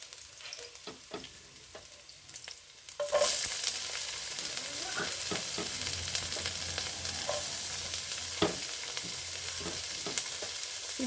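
Onion hits a hot pan for ginisang repolyo and gives a sudden loud sizzle that keeps frying steadily, with stirring scrapes and clinks on top, after a quieter lead-in.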